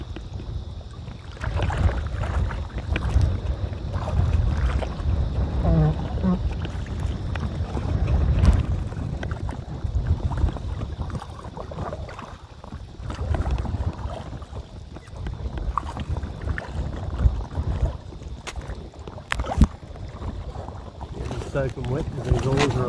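A canoe is paddled on the Macleay River in windy conditions, with irregular splashes and knocks from the paddles amid steady wind buffeting on the microphone and people talking intermittently throughout.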